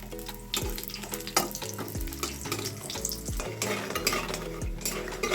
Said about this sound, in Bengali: তেলটা গরম হয়ে গেছে, এবার আমি বড়িটা ছেড়ে দিলাম।